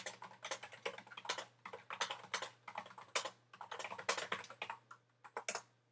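A chat message typed on a computer keyboard: quick, irregular clicking keystrokes in close-up bursts, with a steady low hum underneath and no talking.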